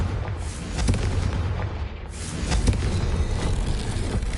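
A Confringo blasting spell detonates in Hogwarts Legacy, a loud booming explosion followed by a second rumbling blast, dense and close with no talking.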